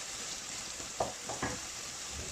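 Ingredients for stuffed baghrir with chicken curry sauté quietly in a pan, a soft steady sizzle with a few light stirring scrapes.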